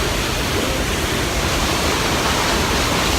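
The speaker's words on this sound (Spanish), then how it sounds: "Esta es la cascada Machay." Dense, roaring rush of falling water at the Machay waterfall in Ecuador, a loud, unbroken broadband wash heard up close with no voices.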